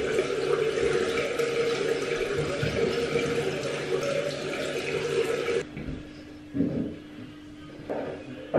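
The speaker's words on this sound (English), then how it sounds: "I'm gonna wash my face with this and then moisturize." Steady running water from a bathroom sink tap flows continuously while someone washes their face, then cuts off, leaving brief splashes and faint handling noises.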